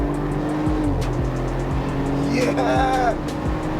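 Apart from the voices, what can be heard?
Audi RS4 Avant car driving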